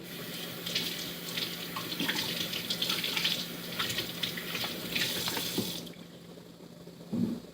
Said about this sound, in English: hang on just a second while I rinse these